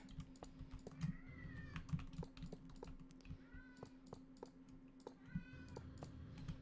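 A pet cat meows indoors in several drawn-out, wavering calls spread across the stretch, fairly faint, over constant computer keyboard typing clicks and a low steady hum.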